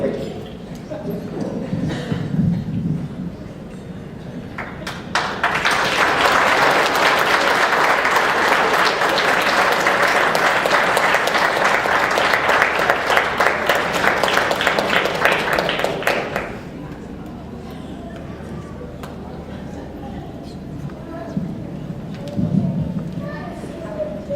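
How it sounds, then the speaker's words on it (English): An audience at an anniversary celebration breaks into sustained applause for about eleven seconds, loud and dense with many hands, preceded and followed by quieter talking in the room. "one more round of applause for Leona"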